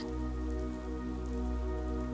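Steady rain falls continuously on a surface with dense, even patter, close and moderately loud, no voices present, setting a rainy-day scene where a boy and his dog play outdoors.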